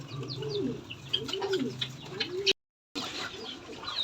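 Pigeons coo in repeated rounded, wavering calls close by, with other birds chirping and clucking around them and a brief dropout of sound partway through.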